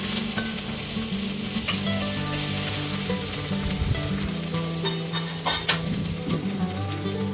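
Green chili and ginger garlic paste sizzle in hot oil for palak sabji, a steady crackling fry punctuated by a spatula scraping and stirring the pan up close, with no talking.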